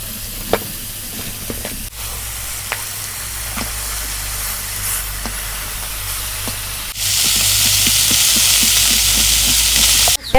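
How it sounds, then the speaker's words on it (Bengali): Silver carp frying in a little oil in a wok, a close, loud continuous sizzle with occasional pops and scrapes, swelling into a brighter, harsher hiss for the last few seconds. "আমরা কড়াইয়ের মধ্যে তেল কম করে দিয়ে মাছ ভাজা নিই"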